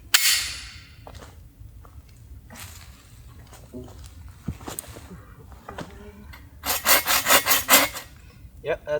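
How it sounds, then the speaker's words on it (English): A hand saw cuts through dry hardwood from a felled tree at a forest campsite, with irregular rasping strokes and scattered knocks, ending in a loud burst of quick, rhythmic back-and-forth sawing. "Maybe I should just get a step ahead and cut up some wood, I guess, for tonight."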